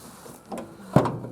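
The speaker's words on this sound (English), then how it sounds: "Nope, door actually opened up." A Ford F-350 pickup's driver-side door, left sitting for years, is pulled open with a short creak and a sharp metallic clunk of the latch releasing, close by.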